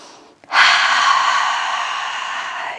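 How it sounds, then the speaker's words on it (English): A big, deep inhale during a yoga breathing exercise: after a brief quiet moment, one loud, close, airy breath begins sharply and holds steady for over two seconds, alone with no talking. "One more big inhale."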